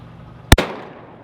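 A single loud, close gunshot from a gun fired on a Svalbard expedition in the ice: one sharp blast with a brief ringing tail that fades into quiet.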